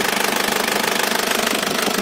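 A 2000 Isuzu Panther New Royal diesel engine idles with its oil filler cap off, giving a steady, dense mechanical clatter at close range with no voices.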